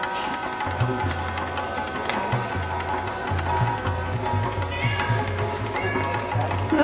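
A cat meows repeatedly in short, insistent calls, fairly close, over a busy background with other voices and noise.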